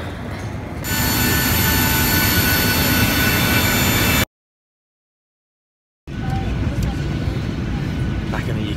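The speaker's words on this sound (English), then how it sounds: "Back at Bremen Airport." Airport ambience at Bremen Airport, a loud continuous roar of jet engines and broadband rumble, cut by a brief silent gap before the steady noise resumes.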